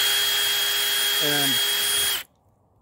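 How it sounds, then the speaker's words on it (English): Power drill enlarging a mounting hole for a luggage rack on a Yamaha TW200 motorcycle, a steady loud close whine running about two seconds then stopping abruptly, with a brief spoken word over it. "you just drill"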